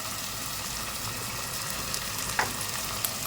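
Ground tomato paste with red chilli, coriander powder, turmeric and Maggi masala sizzles steadily in a hot pan for macaroni daliya soup, a close, even frying crackle throughout with a brief louder spatter near the end.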